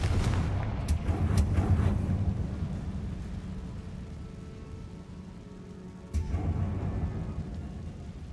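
Blast spell explosions in Hogwarts Legacy, a few booming hits early followed by a rumbling decay and another heavy impact later, loud with a dense low roar.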